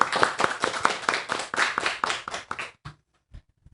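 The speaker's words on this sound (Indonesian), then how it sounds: "Tepuk tangan." A small group at a student podcast recording claps in quick, sharp bursts for about two and a half seconds, then a few isolated taps trail off into quiet.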